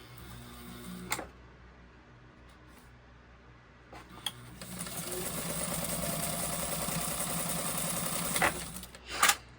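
A White model 1563 sewing machine stitches fabric in a steady, close mechanical whir lasting several seconds, bracketed by clicks and handling noises.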